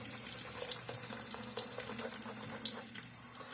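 A bathroom tap runs a thin steady stream of water to wet a shaving brush, a soft continuous hiss and trickle, close and alone.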